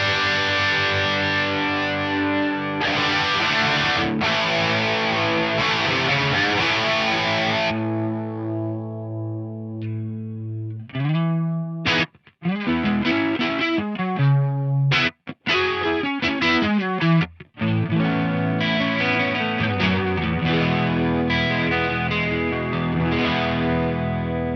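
Electric guitar played through a BOSS DD-200 digital delay pedal with modulation added. Sustained distorted chords shimmer with a chorus-like wobble, followed by choppy, rhythmic strummed stabs with brief silences between them, heard alone with no talking.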